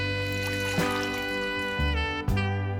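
Water sloshing and trickling in a full kitchen sink as hands fish collard greens out, with a couple of louder splashes among steady close dribbling.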